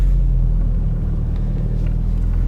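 Toyota Celica GT4 ST185 driven around an industrial park, a steady low engine rumble with road noise heard from inside the car, loud and continuous with no talk.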